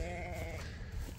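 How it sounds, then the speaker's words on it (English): Sheep bleating in a pasture, a single drawn-out wavering bleat up close that fades after about half a second over a steady low outdoor rumble. "It looks like the sheep are doing pretty well."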